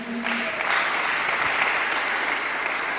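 Steady applause from a church congregation fills the space, continuous and fairly loud, with a brief voice at the very start.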